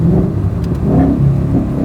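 A 2022 Shelby GT500 V8 rumbles and revs steadily, loud and close, a continuous throaty engine note with slight swells in pitch, heard through an open car window without talk.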